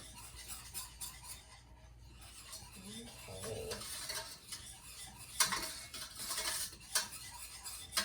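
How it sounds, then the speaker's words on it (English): A whisk works milk into a roux in a pot for pizza sauce, producing quiet, irregular metallic scraping and tapping against the pan, close and soft, with no talking. "Once all your milk is in, you want to whisk it until it's smooth and has thickened."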